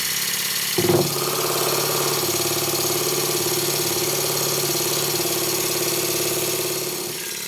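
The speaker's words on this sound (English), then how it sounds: "Then I open the air valve on the compressor." A Stuart 10V steam engine running on compressed air on a workbench starts with a burst, then settles into a steady, fast mechanical chuffing and knocking that holds evenly before slowing at the end.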